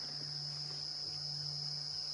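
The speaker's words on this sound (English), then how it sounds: "You hear the buzz of insects that was almost completely absent before the last 2 days" Insects buzz and trill at night in the African bush after light rain, a constant high-pitched drone with a lower steady hum, faint and unbroken with no voices.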